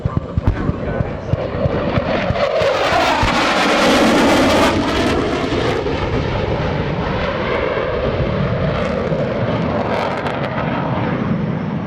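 An F/A-18C Hornet jet under afterburner passes at a naval air station airshow, a loud, sustained, rushing roar that swells and shifts in pitch as it sweeps by, filling the whole stretch.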